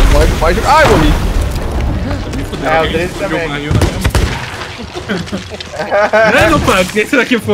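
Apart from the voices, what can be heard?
gunpowder barrel exploding in the video game Sea of Thieves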